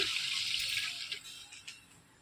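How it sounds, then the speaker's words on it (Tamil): Water pours steadily into a pot for ghee rice, a close, splashing stream that gradually thins out over about two seconds. "ரொம்ப அளவுக்கு தண்ணி ஊற்றிக்கலாம்."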